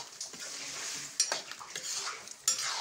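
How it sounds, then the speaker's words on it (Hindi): Pumpkin curry with yogurt stirred in a pan, a steady bright scraping and wet churning with a couple of sharper spoon knocks against the metal, close and continuous, no voice. "अब दही को हम लोग डाल लेते हैं, ये देखिए, और अब इसको पका लेते हैं अच्छा से"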